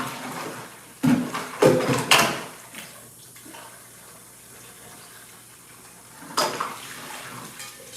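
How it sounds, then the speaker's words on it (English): A cooking pot is rinsed and washed out under running water, with a few loud splashy bursts early and near the end around a softer continuous flow. "So I'm just rinsing and washing out my pot here."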